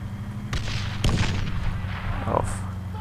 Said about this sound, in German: Aber hier schlagen schon die ersten Granaten ein.